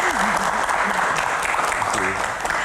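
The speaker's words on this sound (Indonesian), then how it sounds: "tepuk tangan sekali lagi teman-teman" A studio audience at a Q&A talk show bursts into dense, loud applause that fills the whole moment, with a voice speaking briefly over the clapping.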